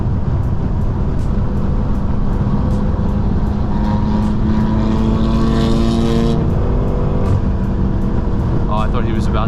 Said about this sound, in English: I downshifted hard because I thought he was going to go for a crazy cut right there.